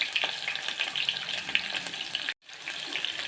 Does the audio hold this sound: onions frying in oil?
yes